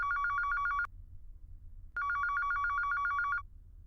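A telephone rings in two long electronic trilling bursts separated by a short pause, loud and close, with no voices.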